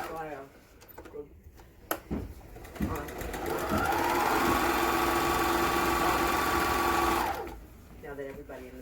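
Sewing machine stitching a pillowcase seam, starting with a few clicks and short bursts, then running in one steady whirring stretch for several seconds before stopping, with talk before and after.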